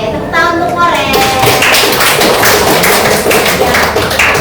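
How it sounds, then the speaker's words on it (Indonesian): Children in a classroom clap together for a classmate, a loud, dense burst of hand claps with bright chatter of young voices mixed in. "tepuk tangan untuk Koren"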